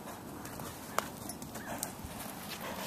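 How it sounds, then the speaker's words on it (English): A horse trotting on a lunge line, its hooves giving a steady, moderately close clip-clop rhythm for about three seconds over outdoor background noise, with no talk. "Hugo's hanging out with me as we're lunging Repeat."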